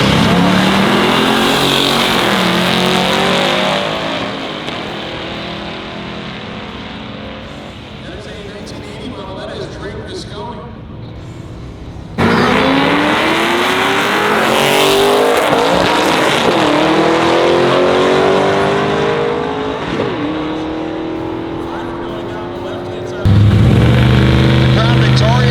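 A 1979 Camaro Z28 races at a drag strip, its engine roaring loud and close with rising revs and gear changes, then cutting off abruptly before another car's engine takes over; a crowd murmurs faintly beneath.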